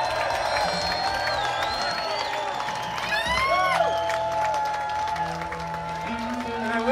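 Audience applause at a live stage show, a steady patter of clapping and some cheering running underneath a voice talking over it for the whole stretch.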